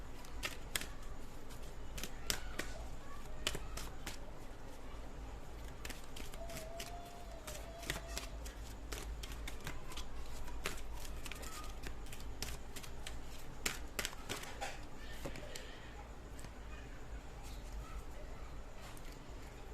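Oracle cards riffled and shuffled for a collective reading, giving a long run of quick papery snaps and flutters that keeps going at a steady pace close to the microphone.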